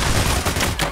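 A split-second burst of loud rifle fire from PayDay: The Heist, several quick shots packed together with no talking.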